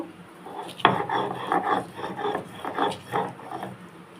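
Kharkon leaves are ground into a paste on a grinding stone, with rough, rhythmic rasping scrapes repeating in short strokes, close and moderately loud.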